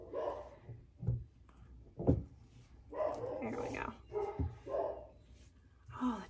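Several dogs bark in short bursts and yips at a moderate distance, mixed with a voice speaking briefly.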